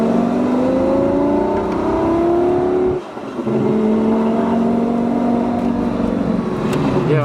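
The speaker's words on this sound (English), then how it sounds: "has let me drive what is now one of my favorite cars of all time, the Lamborghini Gallardo Superleggera" Straight-piped Lamborghini Gallardo Superleggera engine accelerating hard with a loud, rising exhaust roar, a brief gear-change dip in the middle before climbing again, heard from close by with no talk.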